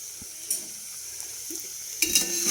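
Steady oil frying sizzle with curry leaves added to the pan, a continuous hiss punctuated by a few scrapes and clinks, swelling louder near the end as more goes in.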